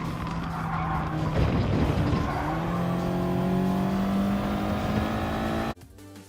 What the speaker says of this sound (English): I'm driving the TT Cup at Lago Maggiore